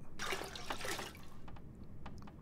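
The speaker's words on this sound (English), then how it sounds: "I can take drinkable water from here, potable water from here" Drinkable water drawn from a toilet in The Long Dark, a close liquid splash and trickle for about a second, then a few faint drips.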